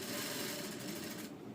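A sewing machine stitches a patch onto a princess-cut padded blouse, a soft, quiet, rapid mechanical whir that halts abruptly near the end.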